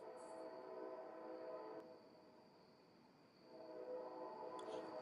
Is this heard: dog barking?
no